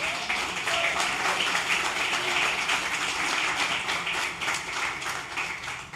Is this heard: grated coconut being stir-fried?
no